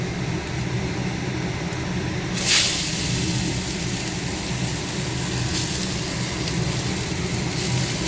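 Greens fry in a pan seasoned with turmeric, a dried chili and salt, giving a steady, loud broadband sizzle that continues throughout, with a brief sharper crackle partway through.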